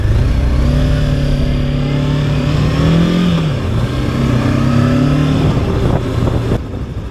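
Motorcycle engine, from a Voge 525DSX or Himalayan 450 review ride, pulling hard and loud with rising revs, a dip as it shifts gear, then climbing again under strong wind rush.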